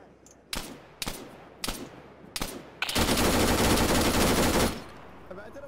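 Gunfire in a video game aimed at a vehicle's tires: four sharp single shots about a second apart, then a dense, sustained burst of rapid fire lasting nearly two seconds.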